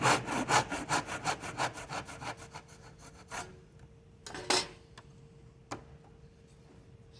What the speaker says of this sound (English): now I'm going to cut right down to that inch mark all the way through.